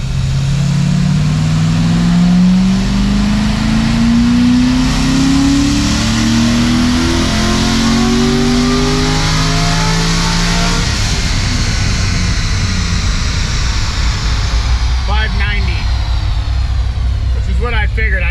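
A 90,000-mile LS7 V8 car on a dyno run roars loud and close, pitch sweeping upward through a long wide-open pull before dropping off into lower rumbling and brief rattles near the end.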